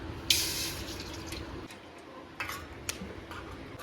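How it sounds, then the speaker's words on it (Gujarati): Water pours from a glass into a pot for cooking Maggi noodles in a village kitchen, with a splashing rush at the start, a few clinks and knocks, and softer trickling after. "આપણે પાણી ગ્લાસ 8 જ નાખશું"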